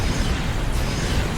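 A torpedo detonates close by in the space game Star Trek Online, a loud, dense, rumbling blast that fills the whole moment with no talk over it.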